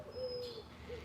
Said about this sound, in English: The birds are going crazy